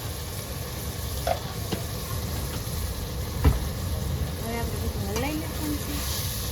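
Prawns sizzle in a pan with cumin and turmeric, a steady frying hiss with occasional stirring knocks, while voices talk over it.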